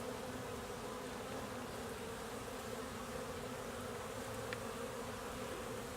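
Honeybees on late-March orientation and cleansing flights hum steadily around a beehive, a dense, even buzz from many insects with no voices.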